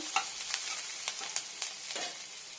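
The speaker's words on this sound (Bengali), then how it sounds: "পেঁয়াজটাকে ভালো করে ফ্রাই করে নিই" Onions frying in a pan give a soft, fairly quiet sizzle with a few light stirring clicks and scrapes scattered through it, close by.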